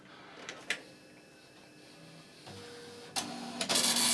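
An Amstrad PCW 8256 dot matrix printer starts up with a few mechanical clicks and whirs, then bursts into a loud buzzing print run at the end.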